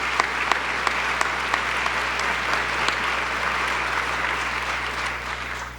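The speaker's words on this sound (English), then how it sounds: "let's give him another round of applause for that" Audience applause at a police chief swearing-in and promotions ceremony, a steady, dense clapping that holds evenly for several seconds at moderate distance with no talk over it.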